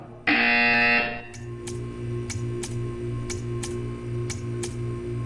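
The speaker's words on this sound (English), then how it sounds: "You will hear a buzzer. When you hear the buzzer, stare at the art." In the Portal 2 video game, a harsh electronic buzzer blares for about a second, then gives way to a steady, regular ticking over a low machine hum.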